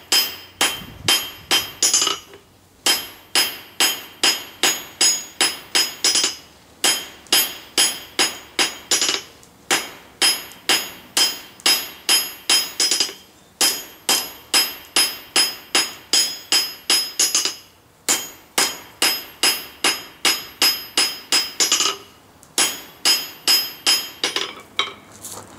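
Hammer blows ring steadily on an anvil as an awl is forged, sharp metallic strikes coming in fast rhythmic bursts of six to ten with short pauses between, loud and close with no talking.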